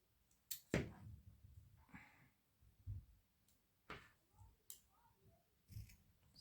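Scissors snip through macramé cord in a few quiet, sharp cuts spaced apart, close up and otherwise nearly silent.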